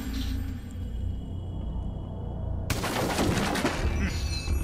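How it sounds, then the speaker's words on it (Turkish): A wall bursting apart in Rainbow Six Siege, a sudden loud shattering crash with crumbling debris rumbling on for a couple of seconds after a low, quiet ambient stretch. "Yalnız tam kafasına vurduğum anda arkada duvar kırılınca ses fena çıkmış"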